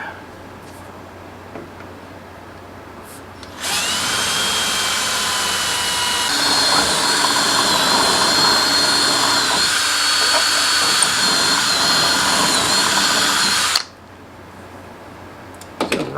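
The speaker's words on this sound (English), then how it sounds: "Now we can drill the other holes that go to this back bracket." A power drill bores holes through a back bracket while mounting solar panels on an Aliner A-Frame popup camper, running loud and steady for about ten seconds after a quieter lead-in, then stopping abruptly.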